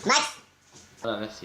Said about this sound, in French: Donc désolé si vous entendez des petits bruits, c'est mon chien.